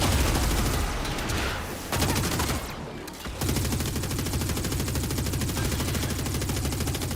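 Sustained, loud rapid gunfire from weapons in the game Warframe, a dense continuous barrage that briefly drops out around the middle before resuming at full intensity to the end.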